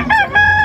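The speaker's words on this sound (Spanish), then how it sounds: "Un gallo kikiriki precioso, pata media, 220 pesos." A kikiriki-breed rooster crows close by at a livestock market, a short, loud, bright call with strong harmonic bands, cut off after under a second.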